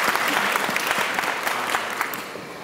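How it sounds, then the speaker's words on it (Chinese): Audience applause fills an award ceremony hall at the 42nd Golden Tripod Awards, a dense, steady wash of many hands clapping that holds throughout and tapers slightly near the end, with no talk over it. "我们再一次用最热烈的掌声来恭喜他"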